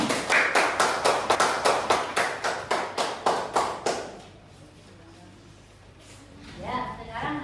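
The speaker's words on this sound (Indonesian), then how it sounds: "tepuk tangan dulu" Classroom group claps in a steady rhythmic beat, about a dozen sharp, evenly spaced claps, loud and close, then stops and gives way to quiet room noise and a voice starting to speak.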